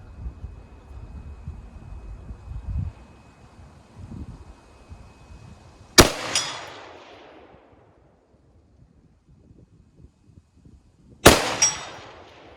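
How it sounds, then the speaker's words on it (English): Two sharp, loud gunshots about five seconds apart ring out from a rifle on a tripod shooting rest outdoors, each with a crisp crack and a fading echoing tail, after low handling noise. "All right, now I'll take the shots."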